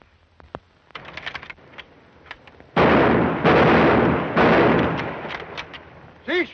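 Gunfire on a firing range in a 1941 film: scattered sharp shots, then dense rapid volleys in loud bursts, with a shouted voice at the end.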